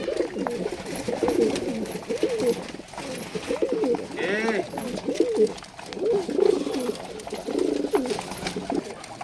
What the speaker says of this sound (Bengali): উপরে রয়েছে আরও কবুতর দেখুন এখানে আরও কবুতর রয়েছে